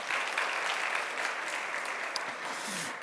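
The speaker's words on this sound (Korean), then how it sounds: "다시 한번 큰 박수 한번 쳐주시기 바랍니다" Congregation applause at a church service, a steady moderate wash of clapping from a room full of people heard throughout the short stretch.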